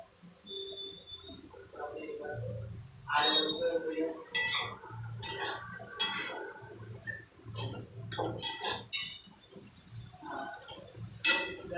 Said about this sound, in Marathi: भाजी व्यवस्थित हलवा